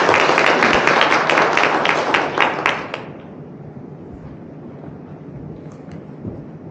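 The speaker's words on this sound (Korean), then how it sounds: "큰 박수 부탁드립니다" A large audience at a Korean symposium claps loudly in a dense burst for about three seconds, then the applause fades quickly into quiet room tone.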